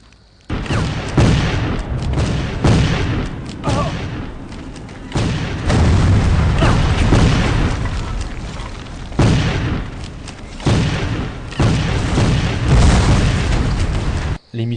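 Loud, dense battle noise from a Civil War video game, with musket volleys and explosions booming and crackling almost continuously, separated by a few brief dips, and no talking.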